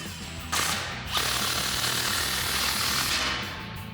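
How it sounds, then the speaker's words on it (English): A 15mm socket drives down a 2.5-inch exhaust clamp on a RAM 1500 MBRP dual exhaust hanger, a loud, rapid rattling burst that starts abruptly and runs about three seconds before cutting off. "tighten that down with our 15mm socket"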